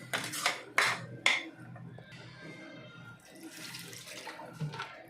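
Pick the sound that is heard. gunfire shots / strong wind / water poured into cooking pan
water poured into cooking pan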